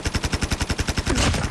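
Gunfire from the mobile shooter game COD Mobile: a rapid automatic burst of evenly spaced loud shots, then a short noisy blast near the end, with no voices.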